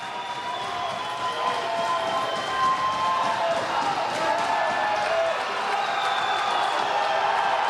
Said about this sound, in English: Really getting the support from the crowd here.